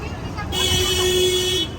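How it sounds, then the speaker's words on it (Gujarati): A car horn sounds on a busy street in Southall, London: one sustained honk of about a second over ongoing traffic noise. "આ જો હોર્ન મારે એનો મતલબ કોઈ ભૂલ કરી."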